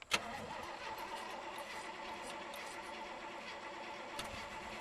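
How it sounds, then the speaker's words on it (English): An Oldsmobile Cutlass barn find starts after sitting 17 years, running on gas fed from a quart can into the float bowl. A brief crank catches into a faint, steady running rumble heard from a distance. "we filled up some gas in the quart can and it sucked it through and it fired up"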